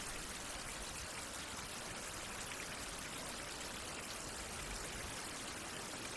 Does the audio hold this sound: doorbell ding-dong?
no